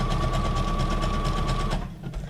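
A sewing machine runs at speed, a steady close mechanical whir with a fast needle rhythm, then slows and stops near the end.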